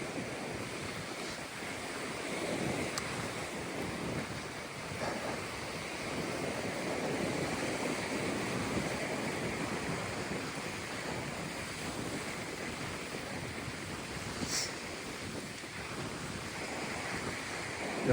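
Sea waves wash steadily onto the shore below a towering bank, a continuous surf roar mixed with gusty wind buffeting the microphone.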